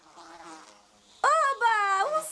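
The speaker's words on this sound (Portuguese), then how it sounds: "Agora, onde está você, mosquinha?" A small fly buzzes in a children's show with a frog character, first a faint wavering hum, then a loud close whining drone that dips briefly and resumes, steady and insistent.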